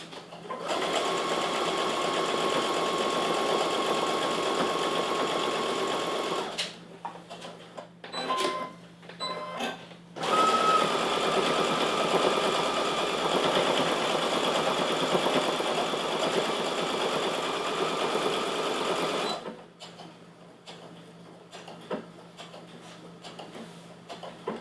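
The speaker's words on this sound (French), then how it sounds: "Je vais refaire une autre couture pour être certaine que ma jute est bien solide, qu'elle est bien attachée à mon autre tissu." A sewing machine stitches jute onto fabric for a reusable dish sponge, running loud and steady in two long bursts with a short pause of start-stop stitching between them.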